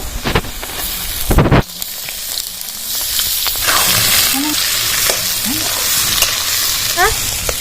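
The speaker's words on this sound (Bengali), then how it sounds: "আলুটা হাফ ভাজা হয়ে গেছে এবার পেঁয়াজগুলো দিয়ে দেবো" Onions added to half-fried potatoes in a hot pan, sharp clatter of stirring at the start giving way to a continuous close sizzle with faint scraping.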